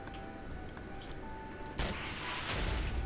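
A loud gunshot blast erupts in a zombie-style shooter game, a sharp crack followed by a rumbling tail and a second burst, over a quiet, faint background.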